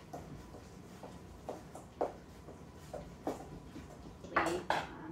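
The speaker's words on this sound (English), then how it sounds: "And then you stir it all up." Batter for zucchini cornmeal bread stirred in a bowl with melted butter, a series of soft, irregular clinks and scrapes of a utensil against the bowl, close and fairly quiet.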